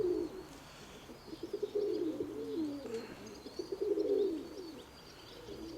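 Pigeons coo softly in repeated low, throaty phrases, with faint chirps and light background noise; no one speaks.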